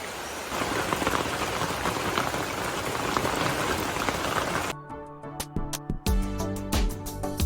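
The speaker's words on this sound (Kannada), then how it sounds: "ಈಗ ಮಳೆ ಬರ್ತಾ ಉಂಟು" Steady rain pours down outside a home during a windy storm, a dense hiss that suddenly drops away midway into sparse, close drips and patters on a surface.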